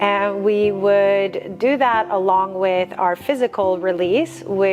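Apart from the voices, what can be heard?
No distinct noise like a dog, phone or traffic.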